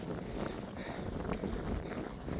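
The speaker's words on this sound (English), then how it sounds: "if this wind would stop trying to blow me into you" Wind buffeting a microphone outdoors on a hike, a steady, rough low rumble with gusty swells throughout, close and fairly loud, no clear talking.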